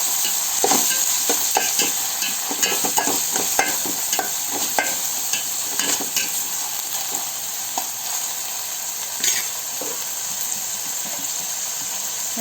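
Chopped tomatoes fry in a pan with a constant loud sizzle while a utensil stirs and scrapes through them in repeated strokes, no voices over it.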